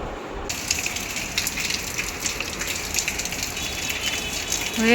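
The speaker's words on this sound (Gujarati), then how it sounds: "અંદર બહાર વરસાદ છે ને બહુ ફૂફા બોલાવે" Heavy rain with a storm in Surat pours down in a dense, continuous rush, loud and close, with no voices.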